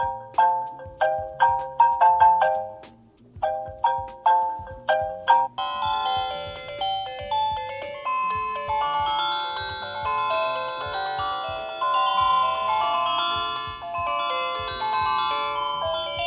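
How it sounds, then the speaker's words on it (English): A retro Chinese novelty phone plays a string of bright electronic ringtone melodies, first short repeated chiming phrases with brief pauses, then a denser continuous tune with layered synth tones, loud and close throughout. "But you also got incredible ringtones"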